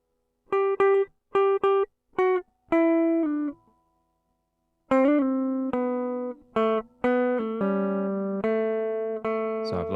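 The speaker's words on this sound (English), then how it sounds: "And it's just a Fender Telecaster straight into an interface, so it sounds rubbish." A Fender Telecaster electric guitar plugged straight into an audio interface plays a dry, clean solo line: several short clipped notes, a pause, then a run of sustained and bent notes, moderately loud with no other sounds.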